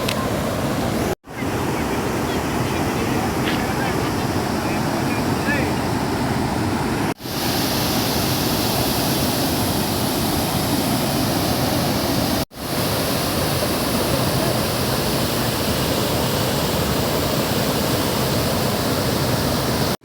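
Vatindra falls near Mython dam roars with a dense, continuous broadband rush of falling water, loud and close, broken only by a few abrupt cuts.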